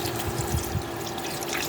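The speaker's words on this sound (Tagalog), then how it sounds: "Tapos lagyan po natin ng tubig." Water poured into a pan of sautéed sardines with miswa, patola and malunggay, a short steady trickle and splash lasting under two seconds with no talk.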